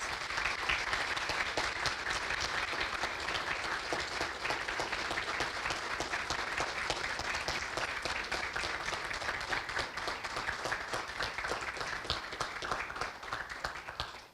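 An audience applauds entrepreneurs at an inauguration event at Facens with Telefónica. The clapping is dense and sustained, holding steady before tapering off at the end, and no voices are heard.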